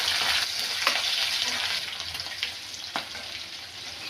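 Whole spices, ginger, green chili, garlic and curry leaves sauté in hot oil in a pan for a Kuttanad-style clam roast, a close, continuous sizzle with occasional stirring scrapes and clicks, no voices.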